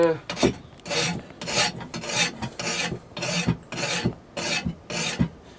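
A tool is sharpened with a hand file at a workbench, producing a steady run of about ten rhythmic rasping strokes, close and fairly loud, with no voices.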